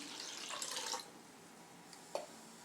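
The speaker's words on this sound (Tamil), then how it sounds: "ரசத்துக்கு தண்ணி சேர்த்துடலாம்" Water is poured into a pot of tomato rasam, a short splashing pour in the first second followed by a small drip or clink, faint and close in a quiet kitchen.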